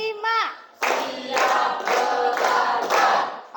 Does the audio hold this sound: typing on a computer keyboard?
no